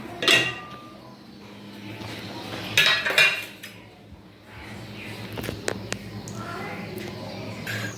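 Peeled mangoes are cut into a bowl, with close knife clinks and knocks against metal and dishes in irregular bursts, alongside some speech.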